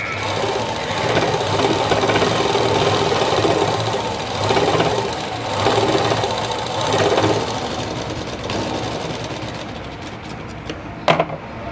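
A home sewing machine runs a second seam joining shaped belt pieces on a lined blouse, its motor whirring in steady loud bursts with brief pauses, then stopping with a couple of clicks near the end.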